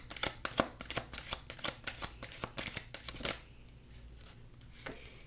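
A deck of tarot cards is shuffled in a fast series of crisp riffling snaps for about three seconds, then a few softer card taps, close and clear with no talking.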